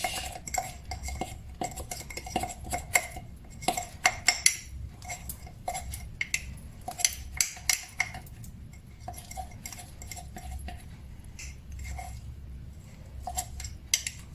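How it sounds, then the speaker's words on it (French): A spoon clinks and scrapes inside a mug while mixing mug cake batter, irregular light taps and rattles at low volume, fairly close, with no one speaking. "Je vais mélanger un peu parce que sinon ça va être trop dur après."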